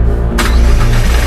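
A car engine cranks and catches after a short quiet pause, then settles into a loud, close rumble with no talking.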